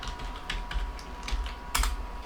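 Fingers typing C++ code on a computer keyboard, a quick irregular run of close key clicks with a louder cluster of strikes near the end.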